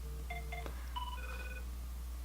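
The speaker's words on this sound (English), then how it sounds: "That's my fiance's ringtone." A phone ringtone plays a short melodic electronic tune of a few clear tones, faint and thin over a steady low hum, with no talking.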